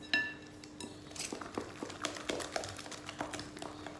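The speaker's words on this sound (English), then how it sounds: "I'm gonna give it a good mix." Banana bread batter with walnuts stirred in a bowl, giving repeated close clinks and scrapes of a utensil against the bowl in an uneven rhythm, with no talking.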